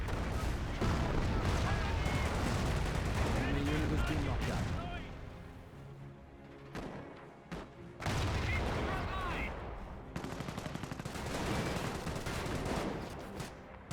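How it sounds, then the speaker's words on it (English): In the Company of Heroes game, an 88 gun fires and a Calliope rocket barrage answers: dense booms and rapid bursts of gunfire, heavy for stretches and then easing, with a commentator talking over much of it. "Black 88 fires away. Maybe in range. Calliope rocket barrage retaliating."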